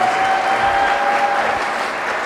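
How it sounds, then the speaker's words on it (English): An audience at a conference talk applauds a speaker being introduced, a loud, dense, continuous round of clapping from a crowded hall. "Please give a round of applause for Dr."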